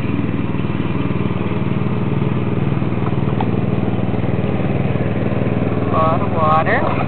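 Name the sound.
lawn mower running nearby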